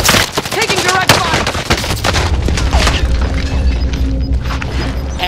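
Rapid bursts of video game gunfire and booms crowd a loud shooter match, with excited voices talking over the shots throughout.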